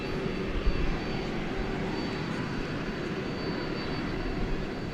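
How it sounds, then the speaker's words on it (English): An Airbus A320neo arriving at Dallas Fort Worth from Los Angeles produces a steady, moderately loud jet rumble with a thin high engine whine running through, continuous and without voices. "Flight 4964 from Los Angeles, an Airbus A320 Neo."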